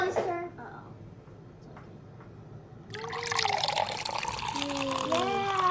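Liquid is poured into cake mix in a home kitchen, a gurgling, splashing pour that swells partway through, while children and adults talk and exclaim over it.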